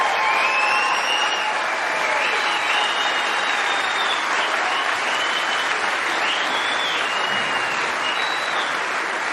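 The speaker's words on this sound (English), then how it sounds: "may we have another round of applause for 2 truly world-class players" A snooker arena audience at the Champion of Champions final applauds steadily and loudly, sustained clapping from a large crowd with a few faint whistles over it.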